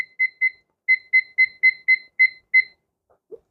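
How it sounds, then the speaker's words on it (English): A kitchen timer beeps as it is set to 16 minutes for boiling Chinese-style rice: about ten short, sharp electronic beeps in quick irregular succession, close and clear, followed by a faint soft clunk. "what I'm going to do is set the timer to 16 minutes"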